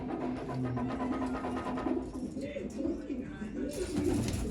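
Low coos of large pigeons repeat through the clip over a busy background, with murmuring voices and some outdoor noise mixed in.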